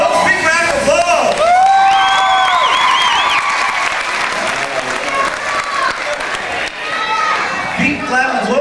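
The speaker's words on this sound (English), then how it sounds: "All right, folks, big round of applause." A high school senior party crowd bursts into loud applause and cheering for a hypnotist show, with whoops and excited voices shouting over the sustained clapping.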